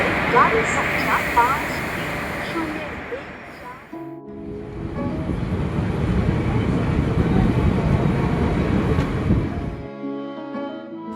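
Passenger train on the rural Katwa line in Murshidabad, a sustained rolling rumble and rattle from inside the carriage that dips briefly, then swells again, with people talking over it.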